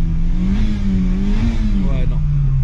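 A car engine in its sportiest drive mode gives a loud, close, steady drone that swells slightly, with faint voices beneath.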